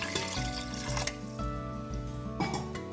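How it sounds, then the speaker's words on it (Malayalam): Water pours into a pressure cooker while cooking chicken for Kerala-style cutlets, a soft continuous trickle that sits under background music. "വേവാൻ ആവശ്യമായ വെള്ളം കുറച്ച് ഒഴിക്കുക."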